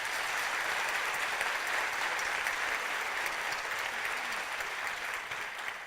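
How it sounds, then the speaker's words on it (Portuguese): A literary festival audience gives Helen Macdonald a sustained round of applause. The clapping is dense and even and runs for several seconds before it eases slightly toward the end. "queria pedir uma salva de palmas a ela"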